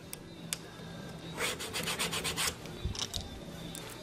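Small chisel scraping and poking at a clogged glue nozzle, giving close, dry rasping strokes in a quick burst followed by a few scattered scrapes in a quiet room.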